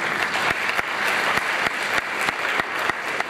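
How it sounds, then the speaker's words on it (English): Steady audience applause at a Zeitgeist Day activism march rally in London, 2011: dense, sustained clapping with a few sharper individual claps standing out, fairly loud, with no talk. "You can clap yourselves again there, it's you."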